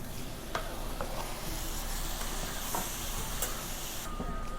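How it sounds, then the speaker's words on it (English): Tomatoes sizzle steadily in a pan over softened onions and garlic, a continuous frying hiss with faint stirring taps, moderately quiet and close, with no voices. "Once the onions are soft and garlic's soft, toss in your tomatoes."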